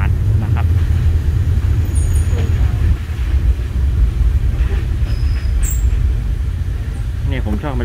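A local diesel railcar runs along the rails in rainy weather, with a continuous loud low rumble of wheels and engine heard from inside, occasional faint squeals and clatter.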